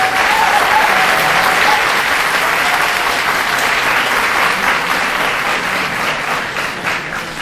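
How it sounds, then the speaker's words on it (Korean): Loud, dense applause from an audience greeting a candidate at a welfare policy forum, sustained steadily for the whole stretch with a faint tone near the start and no talking. "다시 한번 큰 박수 부탁드립니다"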